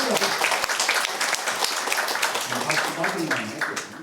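A church congregation applauds during a Sunday worship service: dense, steady clapping that fills the room, with a voice talking over it.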